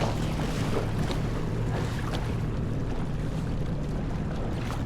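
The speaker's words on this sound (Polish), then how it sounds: "płyniemy do przodu" A 15-year-old Yamaha FX jet ski's engine drones steadily over rushing water and wind buffeting the microphone, loud and continuous throughout.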